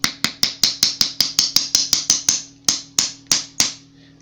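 A small hammer taps a disc down onto a spindle while a homemade yarn spool is being assembled, making about seventeen sharp, bright knocks in a quick steady rhythm that slows toward the end, close and alone.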